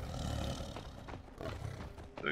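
Tiger roaring in the prehistoric video game Far Cry Primal: a low, rumbling roar running nearly throughout, with a few sharper accents and a brief higher cry near the end.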